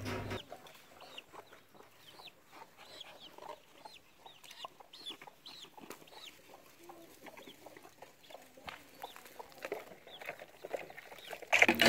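Chickens cluck and peck around an African village yard in the morning, a scatter of soft, repeated clucks and chirps at moderate distance over faint background noise, with a louder bump at the very end.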